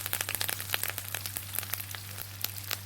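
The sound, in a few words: curry leaves and shallots frying for dried anchovy thokku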